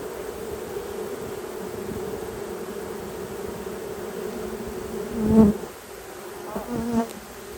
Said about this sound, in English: you guys notice all the bees at the front door there, they're fanning the queen's pheromone out